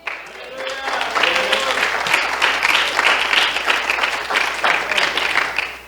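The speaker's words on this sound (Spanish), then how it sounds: "Denle una ofrenda de aplausos al Señor." A church congregation claps together in a loud, steady round of applause lasting the whole stretch, dense and roomy with no voice over it.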